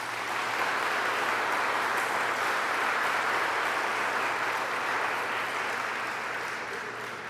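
An audience at a community event applauds, a steady, dense patter of clapping that holds at a moderate level throughout and tapers slightly at the end.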